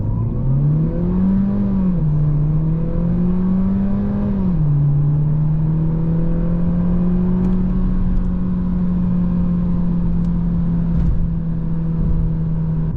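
A 2022 Audi A3 35 TFSI sedan with a 150 hp engine and front-wheel drive accelerates hard from a standstill to 100 km/h. Steady loud engine drone rises in pitch through several gear changes, with no talking.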